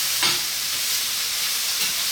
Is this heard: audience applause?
no